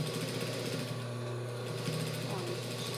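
A sewing machine runs a steady, close whir while stitching a seam on children's shorts with pockets, holding an even drone for about three seconds.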